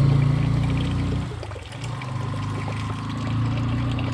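Spring water trickles and pours steadily in a Konkan forest, a close, continuous flowing sound with no voices.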